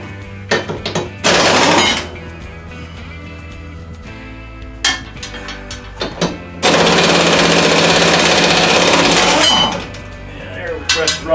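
Air impact wrench loosening mower blade spindle nuts with a 15/16 inch socket on a Scag Tiger Cat mower, two loud rattling bursts, a short one then a longer one of about three seconds, with clinks and handling noise in between.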